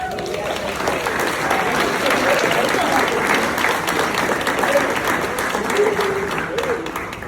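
Sustained applause from a banquet crowd at a boys volleyball banquet, steady and fairly loud throughout, with voices talking underneath the clapping.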